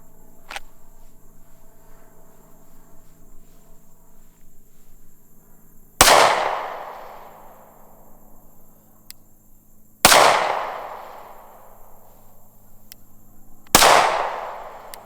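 Three loud Sig P365XL pistol shots fired at 20 yards outdoors, sharp cracks spaced a few seconds apart with decaying echoes, over quiet background insect chirps and no talking.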